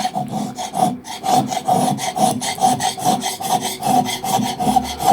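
A blunt chisel scraping and smoothing a very hard piece of yew wood, producing loud, close rasping strokes in a quick, regular back-and-forth rhythm.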